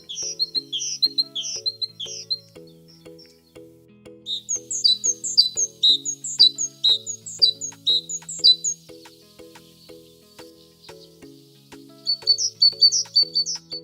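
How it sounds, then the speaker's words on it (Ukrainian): High, bright tit calls in short bursts over a steady musical backing, the calls repeating in quick clusters and staying clearly audible throughout. "А як кричить синичка?"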